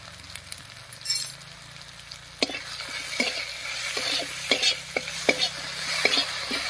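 Pumpkin with tomato, salt, turmeric and cumin powder being stirred in a pan, a soft sizzle under regular scraping spoon strokes that grow a little busier toward the end, no talking.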